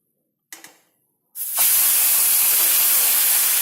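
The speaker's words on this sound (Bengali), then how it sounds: "তাই একটা করে একটু আমি হালকা মাছ দুটো ভেজে নেব" Two large fish frying lightly in a pan: a couple of faint clinks, then a loud, steady, close sizzle that starts abruptly and holds to the end.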